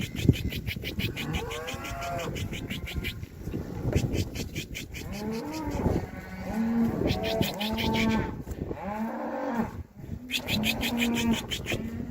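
Several cows moo repeatedly, long low calls overlapping at close range, with a rhythmic clicking or rattling running underneath.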